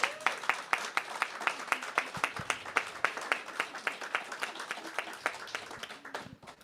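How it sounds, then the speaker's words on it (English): Scattered applause from a small congregation at a Sunday gathering, with sharp, individual claps in an irregular rhythm that thin out and fade toward the end, heard fairly close without any talk over it. "I think we should give them a big round of applause."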